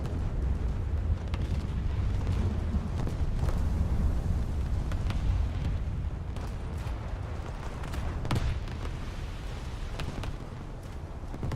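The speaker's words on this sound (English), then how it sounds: "Going with my guns. Oh well. I'll just fire anyways." Warship main guns firing in the naval combat game World of Warships, heavy booming blasts rolling over a dense low rumble of battle noise, continuous and loud throughout with a few sharper reports standing out.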